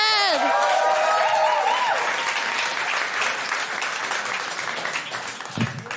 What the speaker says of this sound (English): A round of applause for everyone who shared.